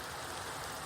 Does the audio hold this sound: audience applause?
no